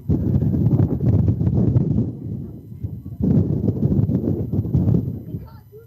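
Gusty wind on a dusty day at a softball field in New Mexico, roaring against the microphone in two loud, low, buffeting surges with a brief easing between them.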